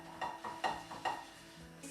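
A spoon scrapes and stirs cayenne pepper and other ingredients in melted butter in a pot, with soft, regular strokes about every half second, faint and close, with no talking.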